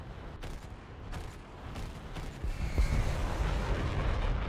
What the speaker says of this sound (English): Good gun pass on the Crusader, actually.